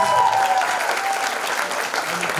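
Enthusiastic crowd applause at a qawwali night, loud and dense, with a brief whistle or tone at the start and faint voices mixed into the steady clapping.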